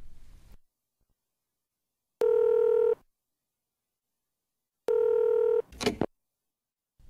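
A telephone dials before a call, with two steady multi-tone beeps separated by silence and a short clattering bump right after the second one.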